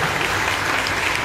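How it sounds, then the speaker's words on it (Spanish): Dense, steady applause from a concert audience in Vinaròs fills the moment, a continuous wash of many hands clapping with no talk over it. "Los aplausos."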